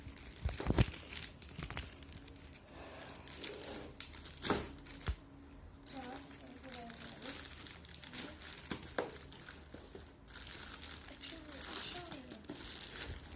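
Crinkling and tearing of packaging as a Nike or Puma shoe box is unwrapped, close crackly rustles and occasional sharp rips, with voices talking in between.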